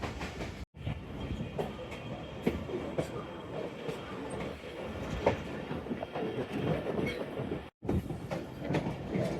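A Narowal passenger train runs along the rails between Mehta Suja and Badomali stations, giving a steady, loud rumble with rhythmic clickety-clack and wheel noise throughout, broken by two brief dropouts.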